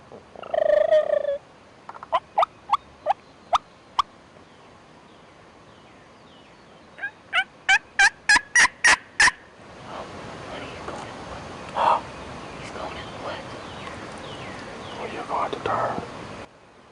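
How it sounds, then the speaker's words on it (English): Wild turkey gobbling in the open, short sharp bursts and a rapid run of rattling calls at a distance, with soft talk and rustling around them. "He is, however, putting on a nice display of strutting and gobbling."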